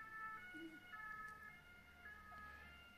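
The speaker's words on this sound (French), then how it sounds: "Excusez-moi, là il y a la police ou l'ambulance qui passe." A police car or ambulance siren wails steadily in the distance as it passes along a street, a faint high tone sustained over low background hum, with no talking.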